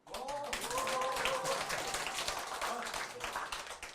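An audience at a Korean children's literature book launch and forum applauds to welcome an author. The clapping is dense and close, lasts the whole moment, and a voice speaks faintly over the start.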